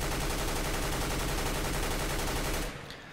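An M4 rifle sprays automatically in Counter-Strike: Global Offensive, a loud, dense, rapid stream of shots that runs for nearly three seconds before cutting off into a brief fading tail.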